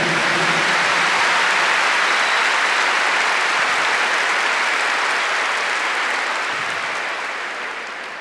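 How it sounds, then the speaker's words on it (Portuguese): A crowd at a religious gathering applauds, steady dense clapping throughout that gradually fades toward the end. "clap to John for this chapter"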